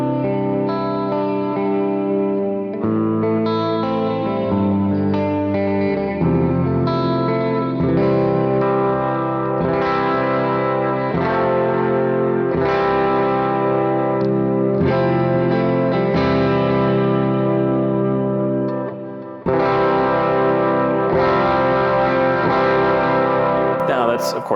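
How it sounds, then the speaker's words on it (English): Epiphone Sheraton electric guitar chords ring out one after another, washed in reverb and delay, with a brief break before the playing resumes. "So now I will turn the reverb back up and the delay back on."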